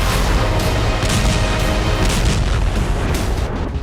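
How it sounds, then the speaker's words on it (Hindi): Rocket strikes and explosions in a war zone at the Jabalia camp, a dense, continuous roar of booming blasts and rumbling fire filling the whole stretch, loud and close. "टूटी हुई इमारतों से अचानक रॉकेट प्रहार हो रहा है।"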